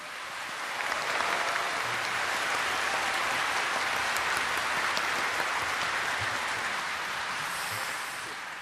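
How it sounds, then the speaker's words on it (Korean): Sustained audience applause at the 80th anniversary Liberation Day ceremony as eighty citizen representatives and descendants of independence patriots enter, a dense, even wash of clapping that holds steady for several seconds, then tapers slightly at the end. "큰 박수를 부탁드리겠습니다"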